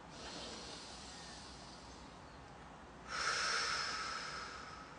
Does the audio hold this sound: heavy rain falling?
no